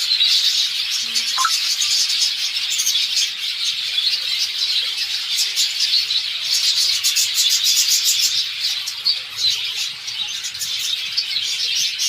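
Pet birds chirp and squawk in a steady, busy chorus of high, thin calls that runs throughout, close by and fairly loud, with no talking.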